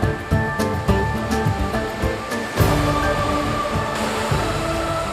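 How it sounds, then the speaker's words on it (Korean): Rough waves on the Congo River churn in a steady, loud roar of rushing water with surging bursts, and no voices are heard. "사나운 파도가 넘실거리는 이곳은 콩고강입니다."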